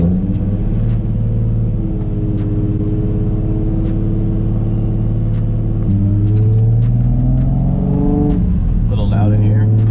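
The boosted car engine from a 30 PSI boost attempt drones loudly from close range during pulls, holding steady and then climbing in pitch as the revs rise, with a dip and a short hiss near the end.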